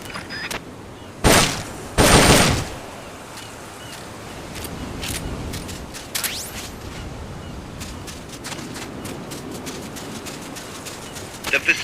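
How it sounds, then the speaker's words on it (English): M16 assault rifle in Metal Gear Solid Peace Walker firing two short, loud bursts of rapid automatic fire. Quieter scattered pops and ambient game sound follow. "The M16's a standard assault rifle, capable of rapid fire."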